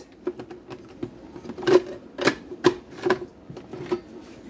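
A small food processor pulses a cup of raspberries for a light chop. Short, close, rattling bursts repeat in an uneven rhythm, with a few louder pulses in the middle.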